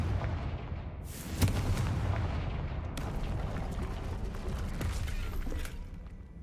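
A Confringo blasting spell explodes in a wizard video game, with loud booming bursts near the one-second and three-second marks over a continuous rumbling, debris-filled roar.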